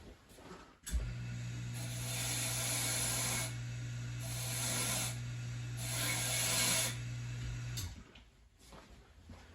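An Ilco Improved Duplex key duplicating machine deburrs a freshly cut key: the motor starts with a clunk, then runs as a steady hum under pulsing brushy hiss for several seconds before cutting off.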